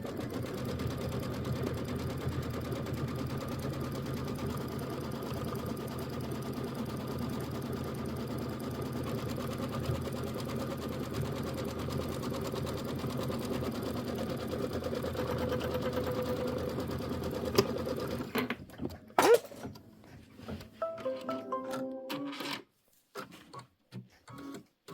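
Embroidery machine stitching down the background fabric of a quilt block, a steady dense mechanical whir with rapid needle ticking that runs for about eighteen seconds, then stops and leaves scattered handling clicks and rustles.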